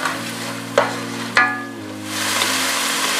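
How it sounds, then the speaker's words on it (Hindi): Masala with lemon juice fries in a pan as it is stirred, a close sizzle with a couple of sharp utensil knocks and a steady frying hiss, no voices. "और मसाले को अच्छी तरह भून लेंगे।"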